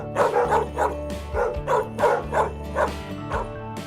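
A dog gives a string of short, evenly spaced barks, fairly close, over a steady background of music.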